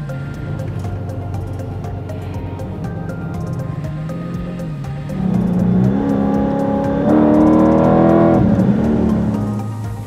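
A Dodge car drives with its engine droning steadily, then rises in pitch and loudness as it accelerates in the second half, heard close from the cabin.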